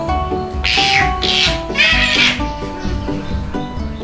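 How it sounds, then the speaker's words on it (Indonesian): A binturong gives several drawn-out, nasal, cat-like calls in a row, close and fairly loud over a low background hum. "suara si binturong ini mirip kucing ya"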